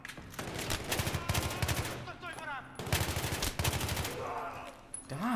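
Two-round burst weapon fire in Battlefield 3, rapid paired cracks repeating in quick clusters, loud and close, with vocal outbursts and battle noise mixed among the shots.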